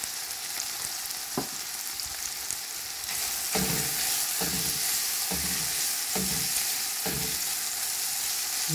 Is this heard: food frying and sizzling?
yes